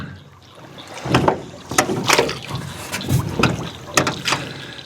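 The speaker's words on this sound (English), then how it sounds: "So I just drag that oar, pull with the other oar" A rowboat's oars drag and pull through water in a pivot turn, making repeated splashing surges and swishes at an uneven rhythm, close and fairly loud, with no talking.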